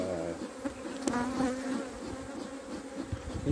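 Honeybees swarm close around a beekeeper at a hive with Hoffman frames, a loud continuous buzz with wavering pitch and occasional sharp taps as bees strike the mask.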